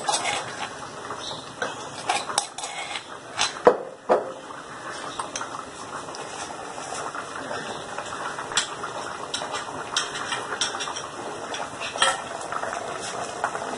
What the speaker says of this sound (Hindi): दही में हम इसको मिलाएंगे अच्छी तरह से